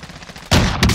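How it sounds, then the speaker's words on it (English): Two loud, close sniper rifle shots from the Call of Duty Warzone video game on the Verdansk map crack in quick succession over faint background game noise, with no talking. "I'm shooting the guys down below near the loadout"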